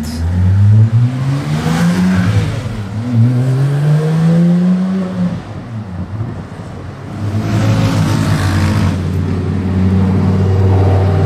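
A Mercedes-AMG GT Black Series on a Monaco street revs hard and close, its engine note rising and falling in loud sweeping pulls, then settling into a steady drone.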